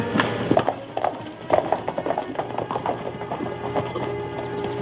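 Horse hooves clip-clop in an irregular rhythm at moderate distance along an Old West trail, with faint background sounds and no speech over them.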